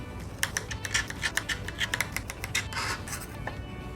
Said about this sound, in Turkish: Çileği normal keseceğim. Şöyle ince ince.